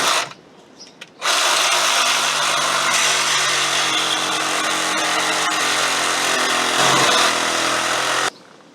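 A power tool cuts through the plastic evaporator housing of a 2001-2006 Chevy/GMC Suburban, Tahoe or Yukon truck. After a brief start it runs as one loud, steady, unbroken whine for about seven seconds, then stops abruptly.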